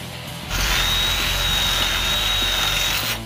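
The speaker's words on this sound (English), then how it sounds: "Let's grab a saw and cut off the darn handle." A battery-powered saw cuts through the wooden handle of a mini sledgehammer clamped in a vise, a loud, steady whine running continuously for nearly three seconds before stopping.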